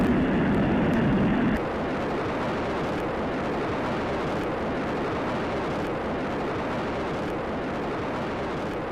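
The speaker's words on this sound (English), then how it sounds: "liftoff of Space Shuttle" Space Shuttle rocket liftoff, a loud deep rumbling roar that drops sharply after the first second and a half, then continues as a steady broad rushing rumble, no voices.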